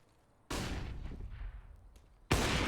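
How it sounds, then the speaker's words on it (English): Two loud bursts of gunfire in a professional Counter-Strike esports match, each a sharp onset followed by a decaying echoing rumble, the second arriving about two seconds after the first. "They bait the shot out of Nork."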